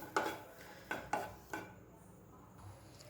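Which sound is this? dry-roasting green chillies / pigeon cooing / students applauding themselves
dry-roasting green chillies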